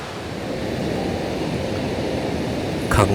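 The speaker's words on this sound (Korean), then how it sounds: "한탄강 직탕 폭포" Jiktang Falls on the Hantan River pours in a steady, full roar of rushing water, broad and continuous close by, with a brief brighter splash or knock near the end.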